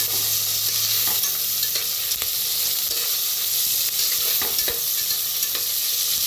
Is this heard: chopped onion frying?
yes